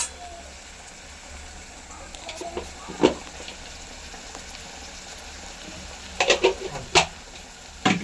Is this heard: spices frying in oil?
yes